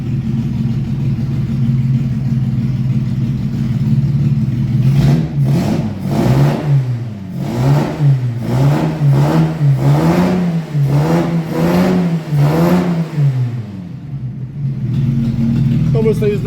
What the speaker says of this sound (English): Obviously it's loud because there's no exhaust on it, but it sounds good now.